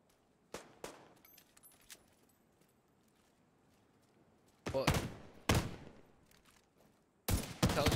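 Exotic pistol fired in The Division 2, heard as a few faint early reports followed by three loud sharp bursts of gunfire, each a short cluster of rapid shots, with quiet game ambience between them.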